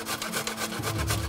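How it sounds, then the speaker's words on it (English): Fresh turmeric root with the skin left on is rubbed against a grater, producing quick, rhythmic rasping strokes, close and fairly loud, in a short run without speech. "I like to grate it, I just leave the skin on it, and we just grate it up"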